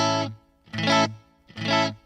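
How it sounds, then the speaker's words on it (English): Electric guitar played through the light chorus effect of a Fender Mustang GTX amp: three sustained, shimmering notes, each clearly separated by a short silence. "Let's turn on the chorus."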